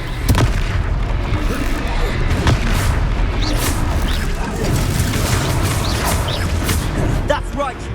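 A Confringo fire spell explodes during combat in Hogwarts Legacy: booming blasts and crashes stack over a dense, loud, continuous wall of battle noise, with a sharper hit near the start and another partway through.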